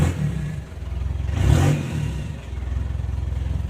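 Triumph Triton motorcycle engine with a full exhaust, close and loud, idling with a throbbing pulse, then blipped into a short rev that swells and falls back to the lumpy idle.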